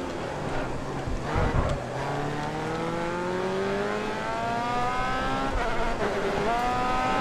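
Open-wheel race car in Grid Autosport slowing under braking: a loud, close engine note sliding downward through gear changes, then climbing again, with faint tire noise.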